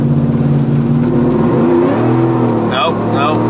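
A supercharged 600 whp Ford F150 pickup in four-high on wet ground revs hard and loud as its wheels spin without grip, the engine note climbing and wavering, with a voice talking over it.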